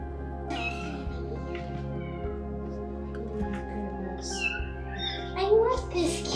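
Several small kittens at a horse shelter meow repeatedly, high and thin cries at varied pitch, close by over a steady low hum, louder near the end.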